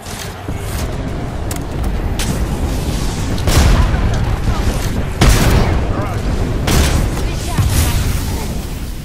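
Gunfire and heavy booming impacts in the video game Apex Legends, loud dense bursts and blasts over a constant rumbling game soundscape, with a voice talking in between.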